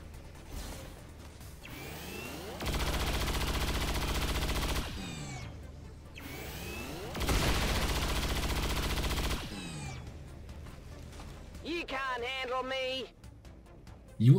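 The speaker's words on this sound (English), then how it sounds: "Rapid fire the turret." Rapid-fire turret gunfire in XCOM 2 comes in two long sustained bursts, each a dense roar of about two seconds, with quieter game sounds and a short voice-like chatter between and after them.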